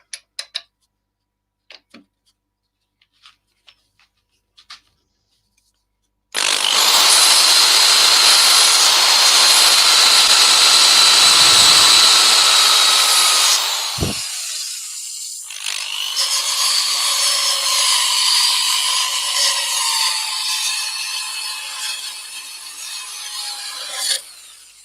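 A power sander works the edges of a small coloured, textured square dish. A few faint clicks come first, then a loud, steady abrasive whir starts, cuts out briefly and resumes with a slightly different tone until it stops.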